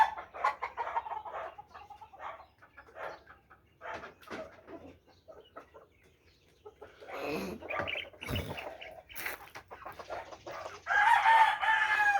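Hens and a rooster in a small backyard coop cluck and squawk close by, with a rooster crowing loudly and some wing flapping near the end.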